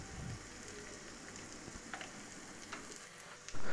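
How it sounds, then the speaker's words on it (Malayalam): Chillies and curry leaves sauté in hot oil for a chilli curry, giving a steady, close crackling sizzle with faint stirring pops, ending in a sudden louder thump. "കറിവേപ്പില, എണ്ണ വെച്ചിരിക്കുന്ന മുളക് ഇട്ട് വഴറ്റുക"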